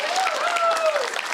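Short burst of audience applause at a senior center humor event, a steady wash of clapping with a voice briefly audible over it.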